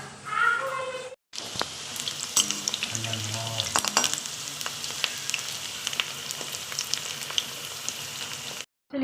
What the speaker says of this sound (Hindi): यहाँ पे बना रही हूँ मैं पकौड़ी।